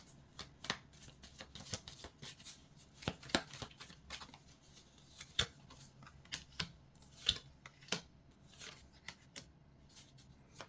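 Tarot cards are shuffled close by in quick, irregular bursts of papery riffling and soft slaps, some louder than others, over a quiet room with no voices.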